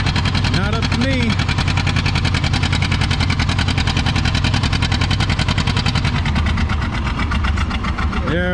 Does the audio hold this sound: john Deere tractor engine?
yes